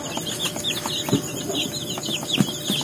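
Young chicks being given vitamins and antibacterial water chirp continuously in a dense, high overlapping chorus, with occasional soft clucks from nearby fowl underneath.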